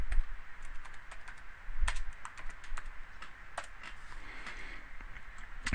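A computer keyboard is typed on up close, with a quick run of separate key taps as a single short word goes into a text box in a design program, irregular and clear against a faint background hiss.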